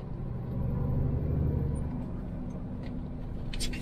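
A small car's engine roars and revs loudly in a snowy spring setting, a dense continuous growl swelling then easing over a few seconds, close by with no talk over it.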